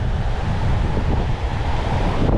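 Wind blasts straight into the microphone on a beach in Palm Cove, a loud, unbroken roar with surf blended underneath and no voices.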